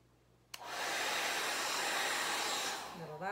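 A hair dryer blows acrylic paint across a canvas for a Dutch pour, switching on sharply and roaring steadily at close range for a couple of seconds before cutting off.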